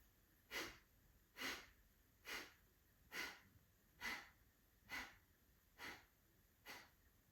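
Rapid, forceful breaths out through the nose in a yoga breathing exercise: eight sharp, even exhalations spaced just under a second apart, quiet and close, with no talk.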